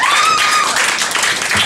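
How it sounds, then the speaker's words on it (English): Comedy club audience at a Richmond, Virginia café comedy night giving a round of applause, loud, dense clapping close by, with a few whoops and voices mixed in over the first moments. "Give a round of applause for him putting a show on"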